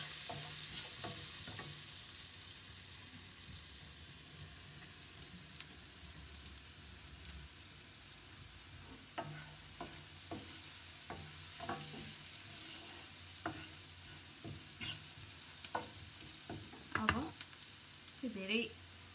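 Turmeric powder fries with onions in a hot pan while a spoon stirs it. A steady close sizzle runs throughout, broken by repeated scraping strokes of the utensil against the pan, with no talking.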